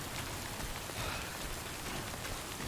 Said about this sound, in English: We're in the rain.